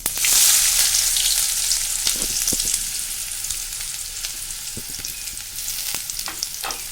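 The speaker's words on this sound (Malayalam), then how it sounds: "എണ്ണ ചൂടായിട്ടുണ്ട്, ചീഞ്ചട്ടിയിൽ ഇനി ജീരകം ഇടാം. സവാള ഇടാം." Cumin seeds and sliced onion hit hot oil in a pan, a bright loud crackling sizzle that settles into a steady frying hiss with scattered pops and stirring clicks.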